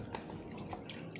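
Soft splashing and dripping as a customer's feet are dipped into a pedicure basin of water, a few gentle wet plops and trickles close by and quiet.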